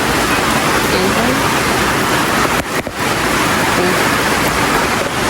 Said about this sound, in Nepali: पानी आयो साथीहरू